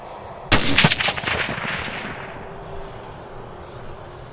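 A single loud rifle shot from a Ruger American Gen II Scout cracks sharply outdoors, followed by a rolling echo that fades over several seconds.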